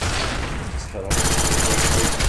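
Gunfire in a 1v1 video game money match on the map Launch bursts loudly in dense, rapid volleys, growing harsher after a brief dip partway through.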